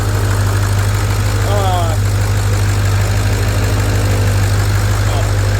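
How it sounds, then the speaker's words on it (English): A 6.0 Powerstroke diesel fitted with a new S369SXE non-VGT turbo idles with a loud, steady, low drone that never lets up, and a faint brief sound rises over it early on. "We're going to let her idle for a few minutes, let the oil cycle through the turbo."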